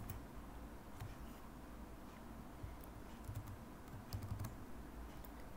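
Steady typing on a computer keyboard while entering a package name into a Python requirements file, a continuous run of soft close key clicks with a few louder taps, no voices.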